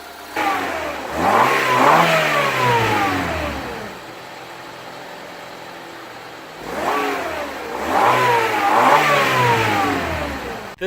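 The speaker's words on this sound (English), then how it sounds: "That was my engine on my 2000 Honda Civic." A 2000 Honda Civic LX engine revs up twice from idle, each rise climbing to a loud, steady mid-pitched roar before settling back to a quieter idle, heard up close with no talking.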